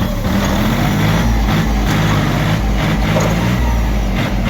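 Kentavr tractor engine running loudly and steadily during a test drive, with a constant heavy rumble throughout and no speech.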